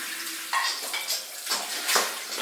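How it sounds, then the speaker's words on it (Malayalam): Dishes being washed under running water in a home kitchen, splashing water with intermittent clinks of pots and cutlery, close and uneven. "ഇവിടെ നമ്മൾ പാത്രം കഴുകുക"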